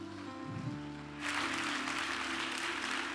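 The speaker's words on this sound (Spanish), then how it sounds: "Dale un aplauso a Dios." A church congregation breaks into applause during a Spanish-language sermon, a dense burst of clapping that starts abruptly after a moment of quieter room sound and continues steadily to the end.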